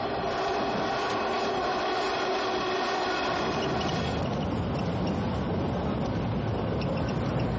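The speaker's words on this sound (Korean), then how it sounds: "이제 기차는 이 여행의 마지막 목적지를 향해 달려간다." A train runs along a line in Hokkaido, Japan, a loud continuous rumble of wheels and engine with a sustained tonal whine, the texture shifting partway through as it rolls on steadily.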